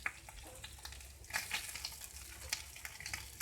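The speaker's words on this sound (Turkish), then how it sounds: "Biraz daha kızarmasına karar verdim" Beef spleen fries in a pan with a steady crackling sizzle and irregular louder pops, close and continuous, with no voices.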